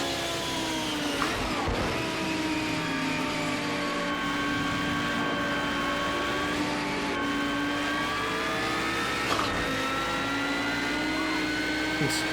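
Audi Quattro IMSA GTO race car accelerating around the Nordschleife in the racing game Project Cars 2, a loud continuous engine whine that climbs in pitch through the gears with brief dips at each shift.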